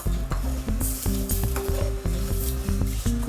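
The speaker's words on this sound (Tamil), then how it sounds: "ஆற விட்டுட்டு நம்ம இப்போ கலக்க ஆரம்பிக்கலாம்" Rava idli batter is stirred in a vessel with a spoon. Close, rhythmic scraping strokes and metallic clinks repeat steadily with a faint wet squish.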